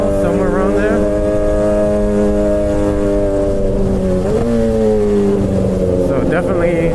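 A Suzuki GSX-R 600 motorcycle engine with around 14,000 miles runs steadily at a loud, close idle, holding an even drone that rises and settles briefly around the midpoint.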